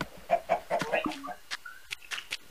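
Minecraft chickens cluck in short, scattered bursts, a quick run of clucks followed by sparser separate calls, fairly clear and close with no talk over them.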